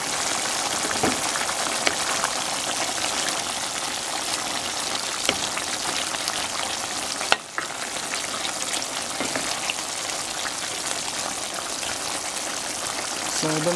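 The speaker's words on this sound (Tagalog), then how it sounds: "pagkaraan po ng 5 minutes na simmering" Spicy pork menudo simmers in a pan, a steady, close, even hiss and bubbling fizz that continues unbroken, with a few faint clicks.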